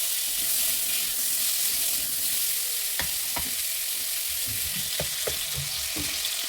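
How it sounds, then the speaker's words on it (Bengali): Cut potatoes fry in hot oil for a tangra fish curry, a constant broad sizzle with occasional spatula scrapes and light knocks against the pan. "এদিকে আমি আলুটা ভেজে নিচ্ছি"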